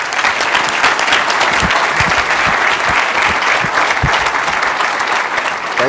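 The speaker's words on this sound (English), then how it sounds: "give him a round of applause" A conference audience applauds as the FCC chairman is welcomed to the stage, a dense, steady wash of clapping from a large crowd.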